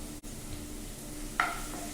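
Onion and green chili fry in hot refined oil with a steady, low sizzle, and a short metallic clink of a stirring utensil against the pan partway through, near and without talk.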